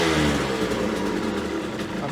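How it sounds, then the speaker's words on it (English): An Aprilia two-stroke engine idles slightly high after a cold start, a steady close buzzing drone with a faint background voice. "I'm going to get it up to full operating temperature because it's idling slightly high, but with these 2-strokes"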